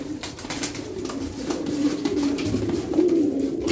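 Pigeons in a coop coo steadily, with low rolling calls overlapping in a dense, close flock chorus that grows slightly louder toward the end, and no talking.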